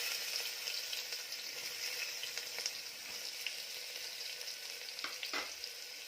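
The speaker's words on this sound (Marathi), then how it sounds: "तेल गरम झाल्यानंतर जो कांदा आपण बारीक चिरून घेतला तो घालायचा." Finely chopped onion fries in hot oil with a steady, close sizzle, and a few scraping stirs come near the end. No one talks.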